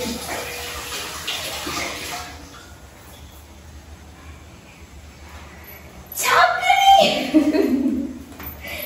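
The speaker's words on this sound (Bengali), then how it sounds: "আর এবার আমরা চাটা ছেঁকে দেবো।" Tea being poured through a strainer makes a splashing, trickling stream that starts suddenly partway through and runs for a couple of seconds. It follows a quieter stretch of soft kitchen noise.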